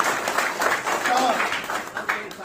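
Audience applause welcoming a new member at a political party joining event, scattered clapping heard briefly under a voice speaking over it.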